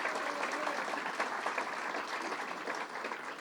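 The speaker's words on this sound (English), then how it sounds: "So let's give her a second round of applause." A crowd at a Baldwin, Long Island public announcement event gives the county executive a round of applause. The dense, continuous clapping carries a faint murmur of voices beneath it and eases slightly toward the end.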